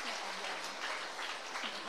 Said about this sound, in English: big applause for all the presenters